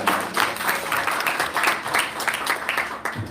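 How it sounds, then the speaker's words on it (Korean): An audience at an international forum applauds steadily, dense clapping filling the whole stretch before easing off at the end. "다시 한번 큰 박수 주시기 바랍니다"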